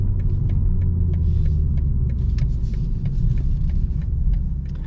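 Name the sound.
BMW M440i engine driving up parking garage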